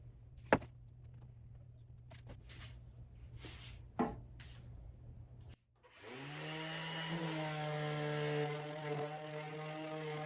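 A power sander works the wooden bed pieces for a stealth camper build in a first-gen Toyota Sequoia. It spins up loud and steady after a few scattered knocks and thumps, then holds a continuous whining drone for the final four seconds.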